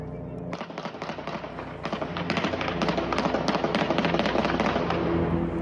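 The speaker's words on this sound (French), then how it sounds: "Les rafales d'armes automatiques" Bursts of automatic weapon fire in a daytime street shooting in Villejean, Rennes, filmed by a resident: rapid crackling volleys run almost continuously, loud and dense, with faint voices beneath.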